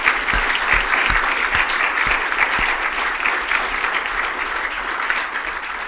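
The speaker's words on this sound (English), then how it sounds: "can we have another round of applause for the people who've got up and spoken today?" A conference audience applauds its speakers with steady, full-room clapping that holds at an even level throughout, with a few low thumps near the start.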